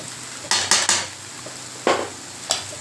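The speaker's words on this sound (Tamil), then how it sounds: "போட்டு இதை நல்லா மிக்ஸ் பண்ணுங்கள்" A spoon stirs beetroot stir-fry with grated coconut in a pan, making about five crisp metallic scrapes and knocks in uneven rhythm over a low, quiet sizzle, all close by.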